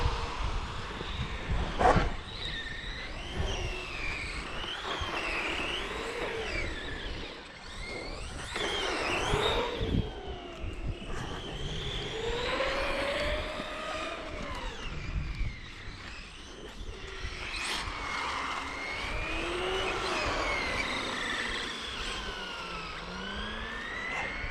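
A Tamiya TT01 RC car with a 3500kv motor on a 3S battery drives over frozen, slippery ground, its high electric whine rising and falling as it accelerates and zigzags, with brief voices and handling noises mixed in.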